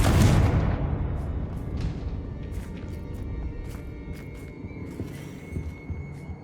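A Confringo spell explodes in Hogwarts Legacy, a heavy boom at the start that rolls into a long fading rumble, followed by scattered crackles and small debris hits as it dies away.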